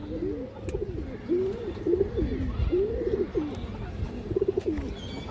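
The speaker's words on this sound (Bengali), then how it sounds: "ফুল রিং চোখের কবুতর দর্শক এই যে দেখেন এই দেখেন হারামি কবুতর" Pigeons at a pigeon farm coo in soft repeated rolling phrases, several calls close by, with light rustling and a faint voice in the background.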